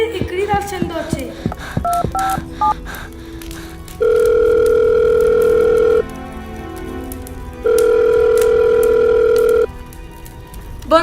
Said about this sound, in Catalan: Treu el mòbil i crida al 112.